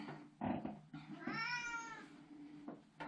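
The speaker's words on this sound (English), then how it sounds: "she's a very affectionate cat" Bonnie, a pet cat in a hallway, lets out a drawn-out rising-and-falling meow with a couple of shorter chirps around it, close and fairly quiet.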